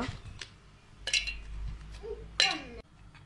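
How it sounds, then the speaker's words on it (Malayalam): Ice cubes drop into a glass of milk, giving two or three sharp clinks with faint clatter between them at close range, while a voice speaks quietly underneath. "ഇതിലേക്ക് കുറച്ച് ഐസ് ക്യൂബ്സ് ഇട്ട് കൊടുക്കുക"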